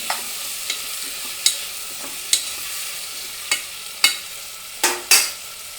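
Chopped tomatoes sizzle and fry in hot oil for a tomato and brinjal curry, with a soft steady hiss punctuated by about eight sharp scraping stirs of a spoon against the pan, close and clear.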